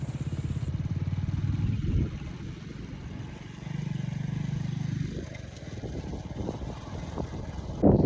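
A motorcycle carrying riders through the countryside of Delft Island, Sri Lanka: a steady mid-pitched engine drone that dips and swells as the bike changes speed, ending with a louder rev, with no talk.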